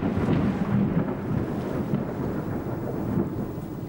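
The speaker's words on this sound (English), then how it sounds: "A fierce storm has us running for shelter." Fierce tropical thunderstorm at sea near Crab Island, with a steady roar of heavy rain and low rumbling thunder rolling continuously throughout.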